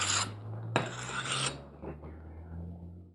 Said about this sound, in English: I'm going to go to my brick, I'm going to wrap it down, I'm going to rub on it.